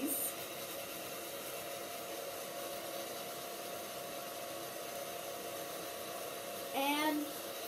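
A hair dryer blows into a tied plastic bag, making a constant broadband airy roar that runs unbroken throughout, with a brief rustle of the bag near the end.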